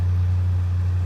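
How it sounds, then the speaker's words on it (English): Truck engine idling with an aftermarket cam: a steady, close low rumble with a mild rhythmic thump rather than a heavy lope, running throughout with no talking. "the truck noise cam, it's really good. It's not super choppy. It's got a nice little thump to it."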